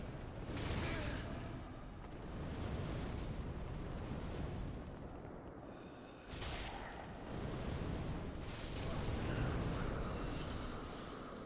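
Bomb explosions in the video game Dark Souls 3 during a boss fight with Yhorm the Giant, heavy rumbling blasts that swell and fade one after another, fairly faint overall, with a voice talking now and then.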